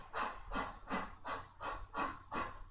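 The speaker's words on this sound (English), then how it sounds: "we're just going to do 12 quick breath of fire" A person performing breath of fire yoga breathing, seated: six rapid, evenly spaced forceful nasal exhales in a quick steady rhythm, close and clear with no talking.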